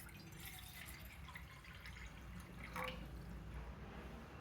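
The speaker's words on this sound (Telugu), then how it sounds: "వాటర్ పోస్తున్నాం" Water pouring into barley flour, a steady soft trickling and dripping stream that runs continuously and rises slightly near the end, fairly quiet and close with no voices.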